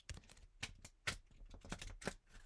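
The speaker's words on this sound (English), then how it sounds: "then I'll do 1 thorough shuffle" A deck of playing cards gets one thorough shuffle: a run of separate crisp, clattering bursts, close and fairly quiet, each snap of cards followed by a short pause.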